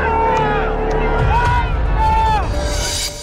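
Dense crowd babble from a mass of devotees at a spiritual leader's divine court in Patna, a continuous close wash of voices with melodic tones rising over it.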